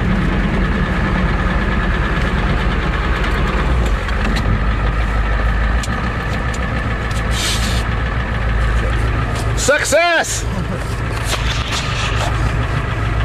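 A Ford truck engine runs and idles steadily at close range, a loud continuous rumble, with a brief voice cutting in over it.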